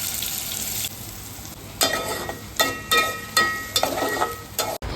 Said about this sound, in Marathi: कढईमध्ये तेल गरम करत ठेवायचं आहे त्यामध्ये जिरं आणि कांदा टाकून घ्यायचा आहे